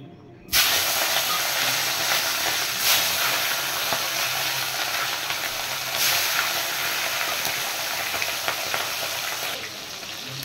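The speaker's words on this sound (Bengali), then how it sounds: "এবার আমি মাছগুলো ভেজে নেব।" Hilsa fish pieces, rubbed with turmeric, fry in hot mustard oil in a kadai, a loud continuous sizzling hiss that begins abruptly and holds steady throughout, with faint stirring movements underneath and no talking.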